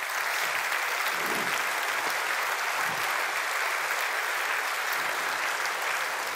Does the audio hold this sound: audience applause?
yes